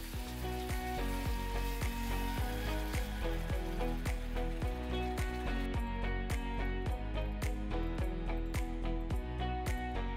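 Tea poured into baking flour for Uyghur halwa sizzles steadily in the pan while being stirred, with a rhythmic scraping of the utensil repeating under the constant frying hiss, close and moderately quiet.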